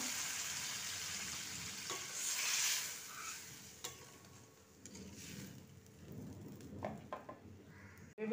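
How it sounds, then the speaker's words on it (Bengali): Prawn curry masala gravy with added water bubbling and sizzling in a pan, a steady low crackle and simmer with occasional stirring clinks, close and fairly quiet, no talking. "গ্রেভিটা ফুটছে"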